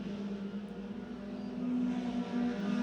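Race car engines droning at Ace Speedway during a kids night event, a steady mid-distance roar that swells slightly toward the end, with no talk over it.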